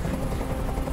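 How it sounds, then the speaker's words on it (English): Helicopter hovering overhead in the video game Detroit: Become Human, a steady, close rotor rumble holding at the same level for the whole second, with no speech over it. "I can't stand that noise anymore. Tell that helicopter to get out of here."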